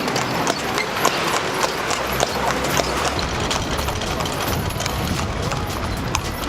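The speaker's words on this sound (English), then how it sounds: "We're thinking about taking a horse ride in the horse carriage" Horse hooves clip-clop at a steady trot as a carriage rolls along a city street in Mérida, Mexico, with the clatter close and loud. People talk nearby under the rhythm.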